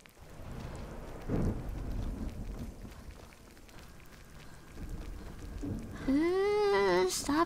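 Rain patters steadily in a fantasy video game while low rumbles of thunder roll in the distance, faint overall, with a brief voice rising near the end.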